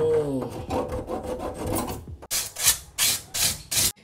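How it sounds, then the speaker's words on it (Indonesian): Steady rasping strokes of hand sanding resin patching on a fiberglass tub, slower and muffled at first, then five sharp, loud scrubbing passes in quick rhythm. "jadi ini sudah semua saya amplas"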